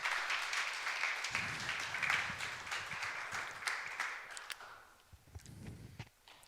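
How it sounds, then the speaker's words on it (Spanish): A church congregation claps for the Lord during a sermon, steady moderate applause that fades toward the end, leaving a few scattered claps. "Dale un aplauso al Señor."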